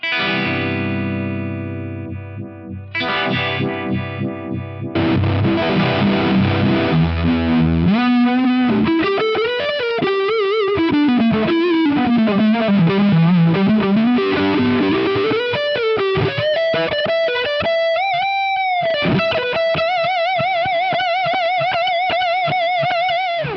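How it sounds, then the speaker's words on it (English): An electric guitar plays through a modern vibe effect into a pi fuzz, first a few sustained chords, then a loud, thick, distorted lead line with swirling, wavering tone and bending notes, alone without talk. "Let's hear it into the pi fuzz over here."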